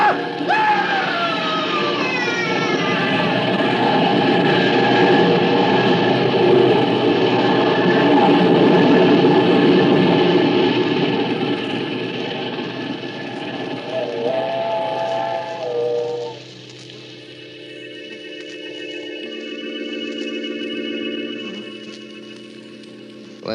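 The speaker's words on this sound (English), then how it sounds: "When the train had passed" A train rumbles past at close range with a steady mechanical roar, then a loud, sustained whistle blows in long tonal blasts as the noise fades.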